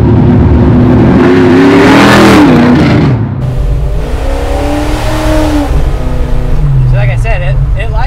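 A 454 Chevelle muscle car with about 700 hp, all motor, revs hard and loud while accelerating. The engine note rises and falls through several pulls and stays close and dominant throughout.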